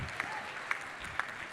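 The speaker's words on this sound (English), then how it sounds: "Give yourselves a round of applause, everybody." Audience applause at the AOF Honors 2025 awards program, a faint, steady wash of clapping across a room with a few sharper claps standing out, low and distant throughout.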